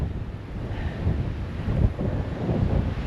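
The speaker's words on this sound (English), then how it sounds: "Oh my god, it's windy." Strong wind buffets the microphone at an exposed coastal viewpoint in Sweden, a loud continuous roar with gusting swells and rumbling low end, no voices over it.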